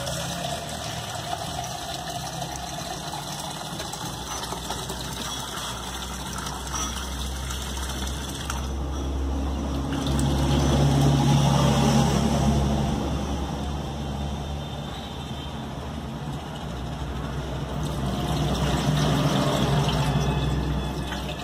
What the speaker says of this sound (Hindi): अब हम इसके अंदर पानी भरेंगे